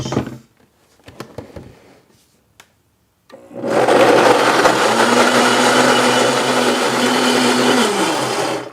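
After a few quiet clicks and handling knocks, a blender roars to life mixing mesquite protein bar batter, running loud and continuous with a steady motor whine and churning.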